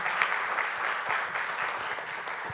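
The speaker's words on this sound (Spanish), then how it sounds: "Un aplauso, por favor, para Jenny." An audience at a public cultural policy forum gives sustained, even applause, with dense clapping at steady volume throughout and no voices over it.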